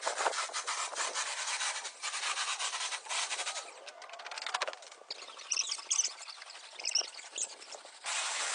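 A large wooden deck is scrubbed by hand before refinishing, producing close, repeated rasping brush strokes in an uneven rhythm that thin out toward the end, with no voices present.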